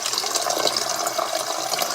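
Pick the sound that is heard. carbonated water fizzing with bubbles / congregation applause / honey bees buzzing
carbonated water fizzing with bubbles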